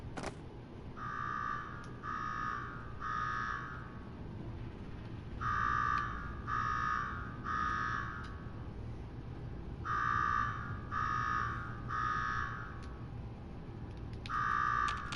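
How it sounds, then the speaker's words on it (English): An electronic alarm in a video game (Fallout 4, Goodneighbor) repeats in groups of three buzzing beeps separated by short pauses, steady and insistent over a low background hum. "Go shut off that damn alarm."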